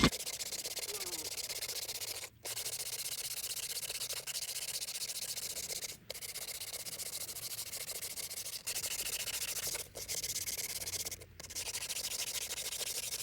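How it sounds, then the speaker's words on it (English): Steady abrasive sanding of a car wheel with sandpaper, a continuous rough rubbing that runs for several seconds with a few brief pauses between strokes, close by and with no talk. "Start sanding the outsides of it, and then transition to some higher grit sandpaper"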